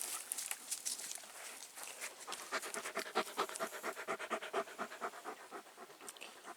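Fern, a white or cream-colored dog, pants rapidly and rhythmically close by, with quick, regular breaths at moderate volume and no voices.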